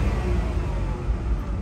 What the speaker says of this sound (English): As you can see, the R6 engine sounds good.